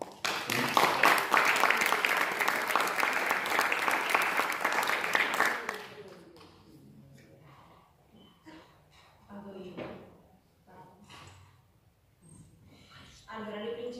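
An audience claps steadily and loudly for about six seconds at an Italian public event, and then the applause ends abruptly as scattered voices and murmurs continue.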